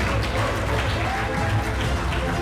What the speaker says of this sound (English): Come on, parents, let's cheer.